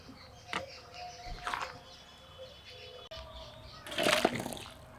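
Cooked jackfruit, potato and goat liver curry poured from a pot into a bowl, ending in a short, wet splashing burst near the end, with faint birdsong and small clinks in a quiet outdoor kitchen.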